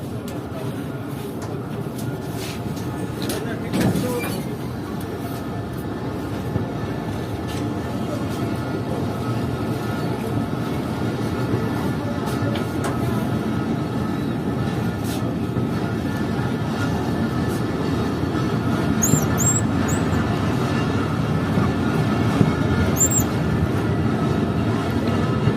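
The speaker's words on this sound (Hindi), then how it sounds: "तो तकरीबन 2 मिनट बाद ट्रेन निकल रही है कुचलाक रेलवे स्टेशन से।" Passenger train pulling out of Kuchlak railway station on the Chaman line, a steady broad rumble and rolling clatter that swells slightly over time, with occasional high squeals and people talking nearby.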